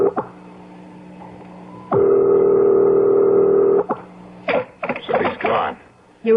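In an old-time radio mystery drama, a telephone dial tone hums steadily for about two seconds, then a quick run of short dialing tones follows, all at moderate level.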